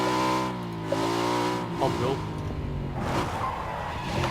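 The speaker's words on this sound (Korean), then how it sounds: "차 사운드" A buggy in the PUBG battle royale game drives with a droning, revving engine whose pitch slides and shifts, then breaks into rougher rumbling and skidding noise as it moves, loud and close.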